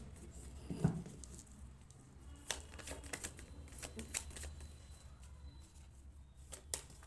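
Tarot cards being shuffled close by, a faint run of soft flicking riffles and taps in a quiet room, with no talk over them.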